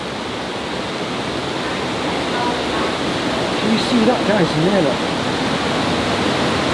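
A river rushes through the inside of an abandoned cotton mill, a loud steady roar of churning water that fills the space while people talk briefly over it.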